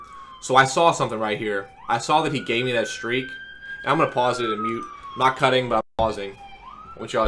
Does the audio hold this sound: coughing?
no